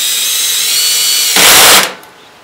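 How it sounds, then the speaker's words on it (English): A power drill drives screws into a metal wine bottle holder, its motor whining steadily and loud, then a brief harsher burst as the screw seats before the tool winds down to quiet. "I have this set at about 6 on my drill"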